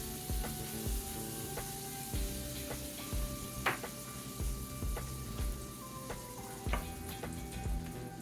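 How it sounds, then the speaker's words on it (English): Butter sizzles in a pan for French toast, a quiet but steady crackle with small popping bursts and light clinks, heard close and alone. "I'm putting a couple tablespoons of butter in here,"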